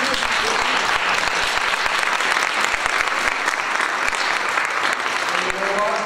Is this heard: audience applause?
yes